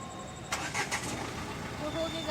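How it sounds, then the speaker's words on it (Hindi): A new car's engine cranks briefly with a few quick starter pulses and catches into a quiet, steady idle, heard from close by inside the vehicle. "तो हो गई गाड़ी स्टार्ट"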